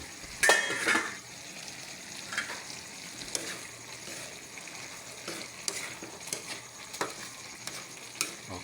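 Chicken wings and bottle gourd cooking in a pan, with a soft, steady sizzle broken by scattered scrapes and clinks of a utensil, including a brighter burst near the start.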